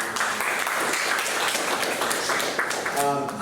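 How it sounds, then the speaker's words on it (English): Audience applause at a state and local service event, a continuous wash of clapping from a room full of people that begins to thin toward the end as a voice starts speaking. "So let's give them a round of applause."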